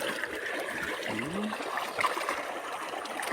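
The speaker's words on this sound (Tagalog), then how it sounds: "Oh, ang tubig oh." A shallow stream flows and trickles steadily where fish are being caught, a soft continuous babble close by with a few faint gurgles and no clear talking.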